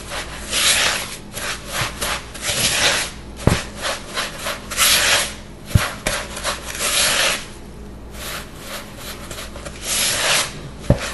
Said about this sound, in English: Make sure everything gets good and mixed.